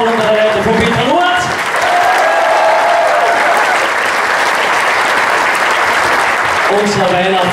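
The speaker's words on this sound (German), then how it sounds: "Einen Applaus für den Kärntner Chorensemble" An audience claps steadily and loudly for a Carinthian choir ensemble at a Christmas show, with a voice speaking briefly at the start and end.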